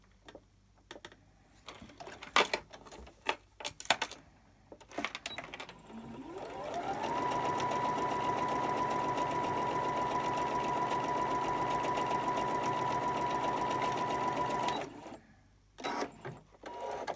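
Sewing machine running steadily while stitching quilt pieces together, a continuous close whirring hum of about eight seconds between clicks and handling noises.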